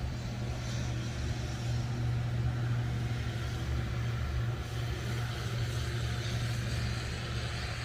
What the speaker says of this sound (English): Let's wait until the tractor goes by.